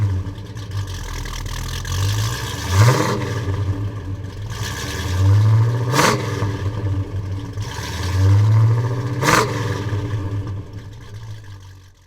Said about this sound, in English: how about I fire this bad boy 1969 Ram Air GTO convertible up and let you hear what it's got.